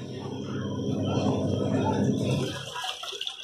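A washing machine running with water and detergent powder: steady churning, sloshing water, close and fairly loud, fading toward the end with a few bumps.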